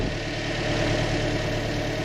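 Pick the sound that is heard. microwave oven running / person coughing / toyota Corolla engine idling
toyota Corolla engine idling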